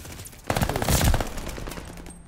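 Armaguerra 43 submachine gun fired in Call of Duty: Vanguard, a quick burst of rapid automatic shots starting after a brief lull, loud and close.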